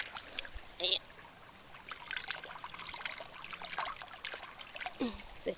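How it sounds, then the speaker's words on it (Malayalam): Water from a mountain stream in a forest trickles and splashes faintly and unevenly, with a few short voices and chirps now and then. "നേരിട്ട് നമ്മുടെ മലയിൽ നിന്ന് ഒഴുകി വരണ വെള്ളം ഉണ്ട്"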